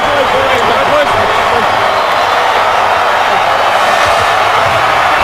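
A stadium crowd at an NFL game, Broncos at Texans, roars in a sustained standing ovation for Peyton Manning's record touchdown pass, with a broadcast commentator talking over the wall of cheering.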